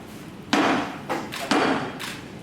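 Three solid wooden knocks in quick succession, close and fairly loud, a gavel striking a block to open a trade union national congress.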